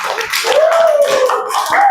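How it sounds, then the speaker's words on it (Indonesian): A short burst of applause from a group in a class session, dense overlapping claps with a sustained tonal hum running underneath, fairly loud and close. "Beri tepuk tangan kepada kelompok 4."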